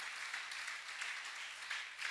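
A church congregation applauds, producing a dense, steady patter of many hands clapping at once that fills the space evenly from start to finish.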